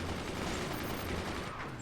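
Swarm missiles firing in the strategy game Forts, a dense continuous volley of rapid launches and booming impacts blending into a steady roar, loud throughout with no talking.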